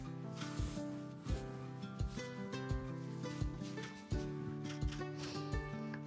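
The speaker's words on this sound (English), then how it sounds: "you can keep your net open with one hand, load it with the other." Loose hay being stuffed by hand into a small hay net, a steady close rustling and rubbing with soft crunchy bursts repeating every second or so.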